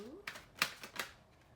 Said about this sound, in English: I'm just gonna shuffle some tarot now.